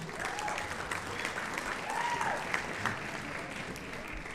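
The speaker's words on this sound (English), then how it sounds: "a big round of applause for our symphony orchestra and all of our talented students who performed this evening" Audience applause for a high school symphony orchestra and student performers at a spring concert, a steady broadband wash of many hands clapping at moderate distance in a hall, with faint tonal sounds over it.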